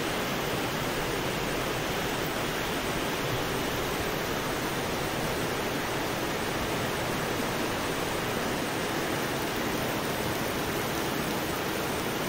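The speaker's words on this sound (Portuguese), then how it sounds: "Olha a chuva." Heavy rain pouring down in a constant, even hiss that stays dense and unbroken for over twelve seconds, with no voices over it.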